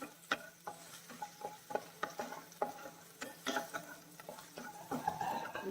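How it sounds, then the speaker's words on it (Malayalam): Onion and ginger sautéing in a pan for egg bhurji: light, uneven stirring clatters and soft sizzle ticks come through at moderate level, with no talking. "സവാള ഇഞ്ചി ചെറുതായിട്ടൊന്ന് മൂത്ത് കിട്ടണം"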